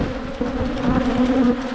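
Honey bees buzz loudly and steadily around an open hive during a January colony inspection, a dense close drone with individual bees flitting past near the camera.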